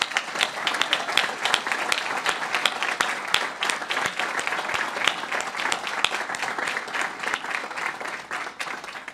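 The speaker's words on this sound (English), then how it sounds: "join me with a loud shout out and round of applause" A luncheon crowd at the Boston Police Department's National Night Out event breaks into steady, dense applause that holds for about nine seconds, many hands clapping close together with the room's ambience behind.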